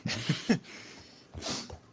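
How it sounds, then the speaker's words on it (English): A woman sneezes twice during a casual podcast recording, two sharp, close bursts of breath with a short pause between them, fairly quiet, with no talking over them. "She was sneezing."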